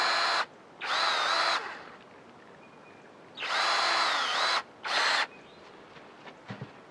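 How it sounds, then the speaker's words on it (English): A power drill drives screws into a wooden beehive box, three bursts of high whirring, near and loud, separated by quiet pauses, with a few small knocks at the end. "And put your screw in, your drill in."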